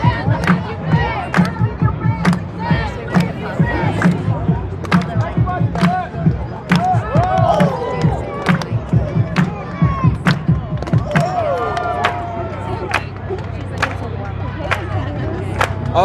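A Ukrainian crowd at a street rally chants and cheers loudly and continuously, with sharp rhythmic claps or bangs punctuating the roar and individual shouts rising above it.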